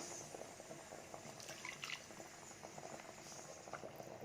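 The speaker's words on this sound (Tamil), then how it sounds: "2 நிமிஷம் இந்த குழம்பு நல்லா கொதிக்கட்டும்" A pot of Kerala-style tilapia fish curry boils steadily on the stove, a continuous close bubbling and gurgling with small pops and no talking.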